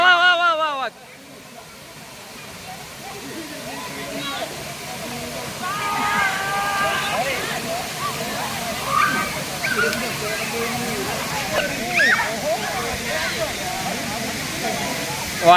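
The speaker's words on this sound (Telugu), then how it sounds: "ఇప్పుడైతే వాటర్ ఫాల్ 360 డిగ్రీస్ చూపిస్తాను మీకు." Valasa waterfall gives a constant rushing wash of falling water, with people talking and calling over it and a sharp burst right at the start.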